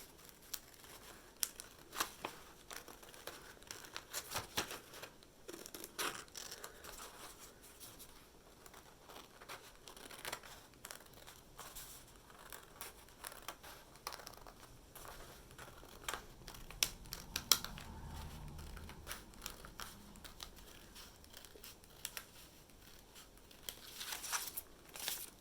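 Scissors snip through two layers of paper that may be slightly wet, giving soft, quiet cuts and light rustling at close range in a calm room, with no talking.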